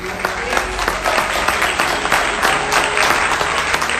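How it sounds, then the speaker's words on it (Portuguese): A church congregation breaks into sustained applause at a Portuguese-language service, dense continuous clapping from many hands filling the room, loud and steady throughout. "Aplaude Jesus."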